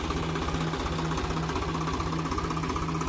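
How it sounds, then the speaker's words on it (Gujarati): A farm tractor engine runs steadily with a rapid, knocking chug and a constant low hum, loud and close, alone with no talk, while pesticide is being sprayed in the fields. "આ છે આપણું ટ્રેક્ટર"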